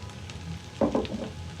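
Chicken for chow mein hitting a hot pan, with a steady sizzle and two quick louder bursts as the pieces go in and are moved about, close up with no talking.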